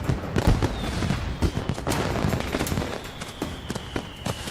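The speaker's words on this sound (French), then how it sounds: "les pétarades des feux d'artifice du Nouvel An ont dû être un véritable cauchemar pour Slavko." New Year fireworks and firecrackers, an irregular rapid volley of sharp bangs and cracks against a noisy background, with a few faint whistles rising briefly.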